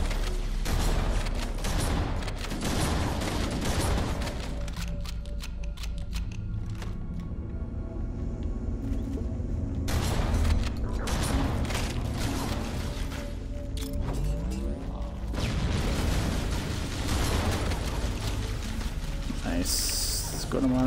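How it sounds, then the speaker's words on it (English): Grenade explosions and gunfire in Halo: Combat Evolved on the Library level, with repeated booming blasts and crackling fire across the stretch and a player talking over the action. "Good amount of grenades."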